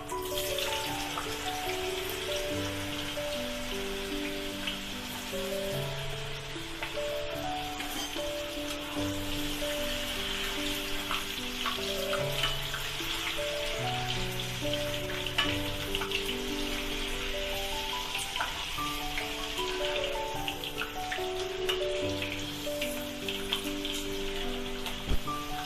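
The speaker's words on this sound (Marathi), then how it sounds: "पहिल्यांदा मी बटाटा तळून घेणार आहे।" Potato pieces fry in hot oil for vegetable pulao, a dense, steady crackling sizzle that holds evenly throughout, over a faint low hum.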